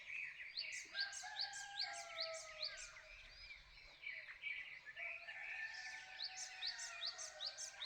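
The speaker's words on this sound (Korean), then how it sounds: "보이지 않는 새소리도" Several birds chirp and trill in repeated bright phrases at dawn in spring, fairly faint and distant, over a quiet countryside background.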